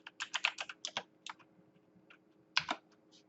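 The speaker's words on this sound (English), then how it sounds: "we're going to type in the estimate number." Close, fairly quiet clatter of keys on a computer keyboard as an estimate number is entered, irregular bursts of quick keystrokes with short gaps between them.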